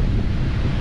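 Rough surf at North Beach, Hawaii, a loud close roar of crashing water mixed with heavy wind buffeting on the microphone, continuous for under a second.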